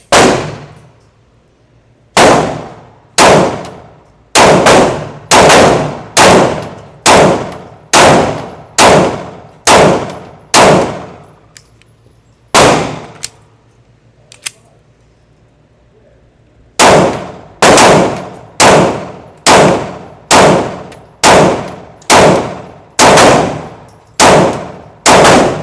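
An M&P Shield X pistol firing Blazer 115 grain rounds outdoors: two strings of sharp, loud, close shots in a fairly quick, uneven rhythm, each with a short ringing tail, separated by a quiet pause.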